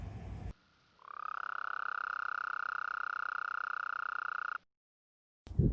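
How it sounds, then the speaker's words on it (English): A toad gives a long, sharp, steady trill lasting about three and a half seconds, loud and close, with brief noisy moments before and after. "Their call is also easy to recognize. It's a sharp trill."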